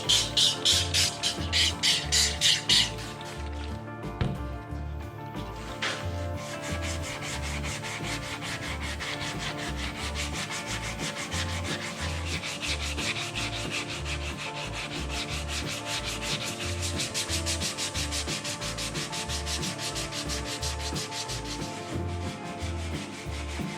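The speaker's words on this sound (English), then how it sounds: "going to start the wet sanding process now. I'm going to start with a piece of 240 grit wet and dry sandpaper just to knock the deep scratches down" Wet-and-dry sandpaper of 240 grit rubs back and forth over old dirt bike plastic in a steady, close, rhythmic scrubbing that continues throughout, with a brief louder stretch at the start.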